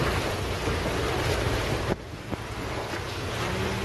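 Steady, loud rush of water from a nearby waterfall at Lamahatta fills the whole clip, with wind buffeting the microphone and a brief dip midway.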